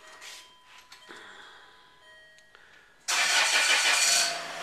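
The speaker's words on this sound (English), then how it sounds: "and we start the car," A Land Rover Freelander 2 starts up: after a quiet interior with faint chimes and tones, the engine cranks and catches abruptly, settling into a loud, steady idle close by.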